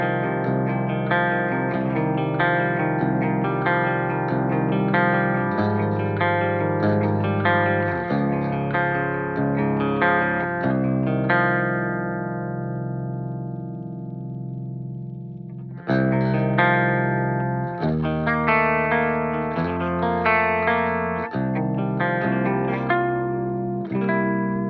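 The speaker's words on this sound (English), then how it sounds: "This is a gorgeous sounding chorus." Clean electric guitar chords ring out with a shimmering, slightly wavering chorus effect, sustained and spacious, with a brief pause before the playing resumes.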